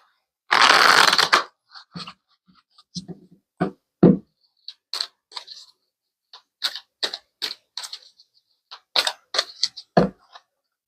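Tarot cards shuffled by hand: a long dense riffle at the start, then a string of short, crisp card flicks and snaps at irregular intervals, close and fairly loud, with no voices.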